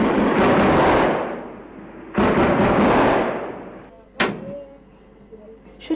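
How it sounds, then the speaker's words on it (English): Heavy gunfire and shelling outside a house in a war zone, a dense roaring barrage in two long bursts, then a sharp nearby blast echoing as the din fades. "It's very dangerous in the house. Because it's really heavy shooting."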